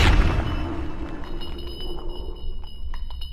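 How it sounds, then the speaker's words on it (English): A bloody explosion in Fallout 3 opens with a loud, deep boom that decays into a rumbling tail with scattered debris crackles, heard alone with no voices. "right, and a big bloody explosion."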